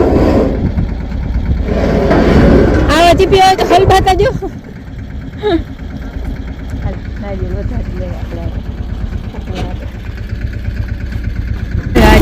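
A small tractor idling in a village field, a steady mid-pitched engine drone throughout with someone talking loudly over it for a few seconds.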